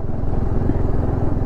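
A TVS Apache RR310 motorcycle rides along with a loud, steady engine drone and rumbling exhaust pulses, close and continuous with no pauses.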